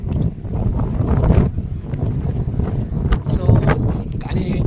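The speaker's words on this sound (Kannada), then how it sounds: "ಸೊ ಗಾಳಿ ಜಾಸ್ತಿ ಬಂದು" Strong wind gusts buffet a microphone outdoors by a pigeon loft, a broad, continuous rumbling roar that swells and eases without pause over the whole stretch.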